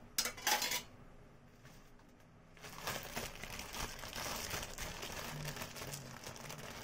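A knife scrapes butter across a slice of brown bread for a paneer sandwich, with a faint clink of cutlery at the start, then a soft, steady rasping spread that runs on quietly.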